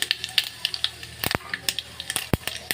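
Cumin and mustard seeds crackling in hot oil for a chutney, with quick irregular pops and spatters over a low sizzle, close and fairly loud.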